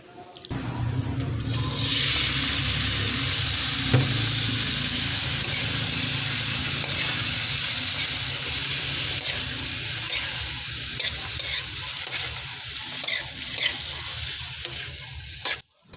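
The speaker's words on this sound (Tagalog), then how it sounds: "Talaga nawawala yung bawang sibuyas at luya pag sinabing gisa." Garlic, onion and ginger sautéing in hot oil for Filipino cooking, a steady loud sizzle that runs almost unbroken, with occasional stirring scrapes and clinks, then stops abruptly at the end.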